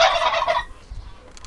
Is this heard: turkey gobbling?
yes